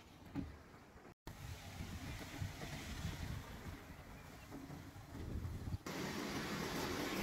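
Pressure washer spraying a car named Sander at a car wash, a steady, close, loud hissing roar that runs almost throughout, briefly cut out once and shifting in tone near the end.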